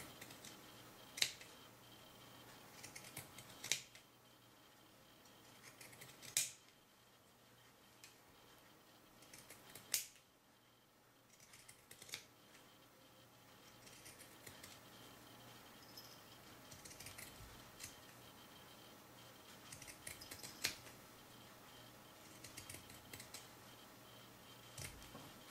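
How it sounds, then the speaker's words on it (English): Pinking shears cut through felt, giving quiet, close, crisp snips and clicks at irregular intervals over a soft background. "that quarter inch seam allowance so that I'd have some space to do this pinking shears on"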